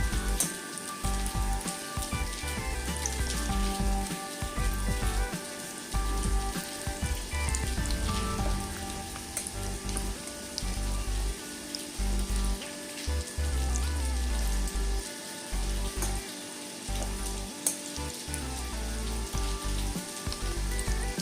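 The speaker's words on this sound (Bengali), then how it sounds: "এরকমভাবে আমি বড়াগুলোকে তেলের মধ্যে দিয়ে নেব" Fritters of fish roe and chickpea flour sizzle in hot oil in a pan, a steady, fine crackling and hissing close by, with no voices over it.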